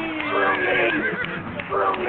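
Horse whinnying loudly in a long, shaky neigh, followed by a second shorter whinny, close and dominating with some background noise.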